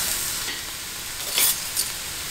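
Ground pork frying in oil as a spatula breaks it up, a close steady sizzle with a couple of brief scraping stirs, no voices.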